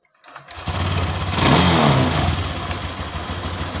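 A Honda Genio scooter engine cranks over and catches about half a second in, then settles into a steady, loud mid-pitched idle that holds close by with no talk over it.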